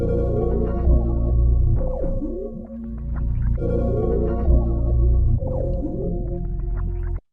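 A melodic sample pitched down two steps, chopped into short slices, repeating in a looping phrase at 133 BPM with sliding, gliding tones over a steady low bed.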